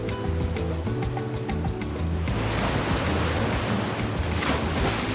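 Pounding ocean surf at a beach rolls in as a broad, continuous roar of breaking waves, steady and fairly loud, following a brief stretch of music at the start.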